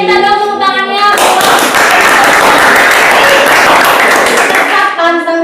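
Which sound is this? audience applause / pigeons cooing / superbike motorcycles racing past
audience applause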